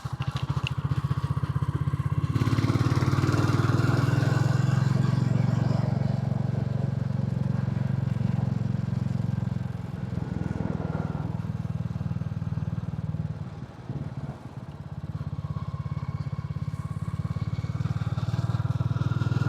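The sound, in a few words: Royal Enfield single-cylinder motorcycle engine rumbling between houses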